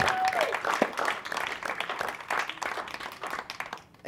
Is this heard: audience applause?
yes